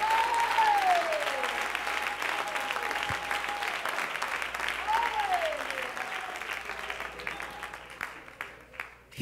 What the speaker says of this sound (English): Clap your hands and magnify him in this house.